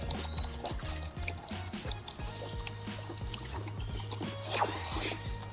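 Four-stroke ATV oil pours into a rebuilt go-kart engine, with faint gurgling, dripping and trickling liquid sounds close up over a low steady hum, with no talk.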